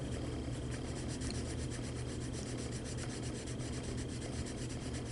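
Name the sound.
coloring tool rubbed on paper, smoothing color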